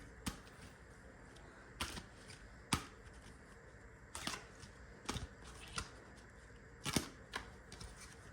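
Tarot cards being shuffled by hand, quiet crisp riffles and snaps at irregular intervals over a low, steady room hush.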